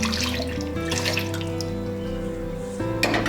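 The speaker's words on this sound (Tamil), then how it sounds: "இதுலேயே கொஞ்சம் தண்ணி ஊற்றி" Water pours steadily into a container in a continuous splashing stream, close by, with a rising tone as it fills.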